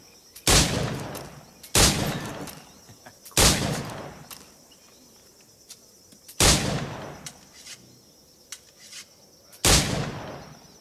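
Pistol shots in Assassin's Creed IV: Black Flag: five loud, sharp gunshots spaced about one and a half to three seconds apart, each with a short echoing tail over quiet outdoor ambience.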